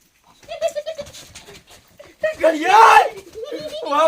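Goat bleating in a rural Gujarati setting: a few wavering bleats, close and fairly loud, mixed with people talking.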